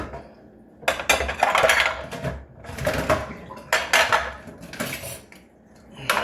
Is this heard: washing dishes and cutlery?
yes